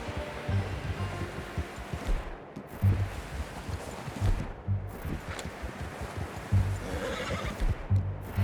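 A horse in Red Dead Redemption 2 whinnies and snorts repeatedly over steady clip-clop hooves, with an ambient outdoor wash in the background.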